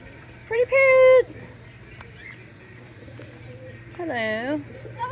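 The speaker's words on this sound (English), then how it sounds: "Are you excited about the birds? Are you excited about the pigeons?" Diamond doves coo softly in an outdoor setting alongside a hyacinth macaw, with a couple of louder drawn-out vocal calls over a steady low hum.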